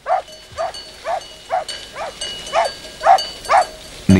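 A Croatian sheepdog barks about nine times in a steady, evenly spaced rhythm, fairly close and clear over a quiet outdoor background.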